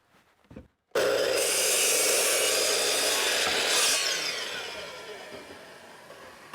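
A saw cuts through a wooden board to length, a loud, continuous close-up rasp that starts abruptly after a brief quiet moment and then tapers slightly toward the end.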